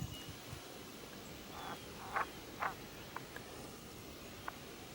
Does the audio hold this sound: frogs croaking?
yes